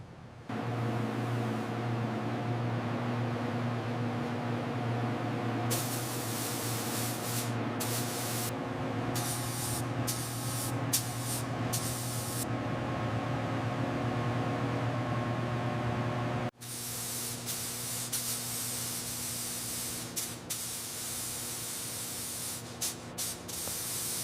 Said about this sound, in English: Pressure set, viscosity confirmed, spray pattern perfect, ready to spray.